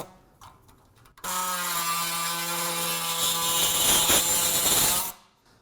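A Wielander & Schill Vario tool cuts through panel material with a backing piece held firmly on it, giving a loud, steady, high-pitched mechanical whine that runs for about four seconds, then stops abruptly.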